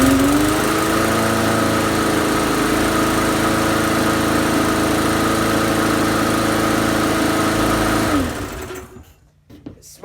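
A small engine that had been sitting unused runs steadily and loudly with a buzzy, even drone for about eight seconds, then cuts out and falls quiet.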